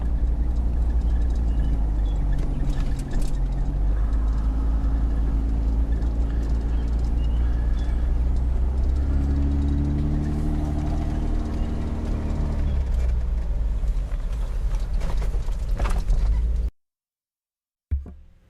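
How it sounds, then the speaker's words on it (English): A steady low rumble of many military vehicle engines passing through West Plains, Missouri, a continuous heavy drone with shifting engine tones that runs unbroken before cutting out near the end. "People that have lived here their entire lives have never seen this many vehicles."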